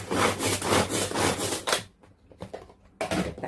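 Small kitchen chopper whirring through cut broccoli pieces in repeated short bursts, loud and close, then a pause with quieter scraping before another burst at the end.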